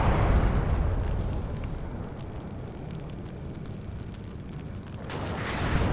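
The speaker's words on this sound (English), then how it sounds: "Now I'm getting artillery on me from the other team" Artillery strikes in the real-time strategy video game WARNO, a loud rolling explosion that fades into a long rumbling decay, then swells again with another heavy blast near the end.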